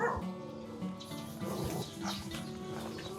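Dog barking near a house, a few close yips and woofs with a whimper, busy ambient background with faint voices.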